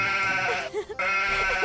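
A man imitates a goat bleating, a single wavering nasal bleat broken by a brief throaty warble in the middle, loud and close with nothing else behind it.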